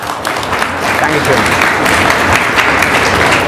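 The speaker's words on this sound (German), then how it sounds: "Kurzer Applaus" Short burst of audience applause at a Linux conference talk on Raspberry Pi projects, dense clapping swelling louder after a brief spoken thanks.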